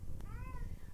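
A cat meows once in a single drawn-out, rising and falling call, heard clearly over a steady low background rumble with no talking.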